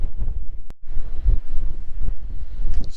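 Wind gusts at an outdoor stone site, buffeting the microphone as a continuous low roar that swells and eases, with no voices.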